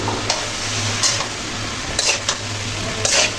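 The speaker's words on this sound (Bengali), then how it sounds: "তো সবজিগুলো মশলার সাথে এভাবে নাইড়ে চেড়ে দিচ্ছি যেন সবজির সাথে মশলাগুলো ভালো করে মিলে থাকে" Bottle gourd pieces with spices are stirred in a sizzling pan, a spoon scraping and clacking against the metal several times over a steady frying hiss, close up.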